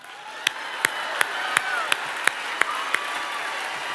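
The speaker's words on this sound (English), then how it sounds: "so give them a round of applause" A theater audience on a musical's opening tour night applauding the show crew, with sharp, evenly spaced claps over a steady crowd wash, fairly close.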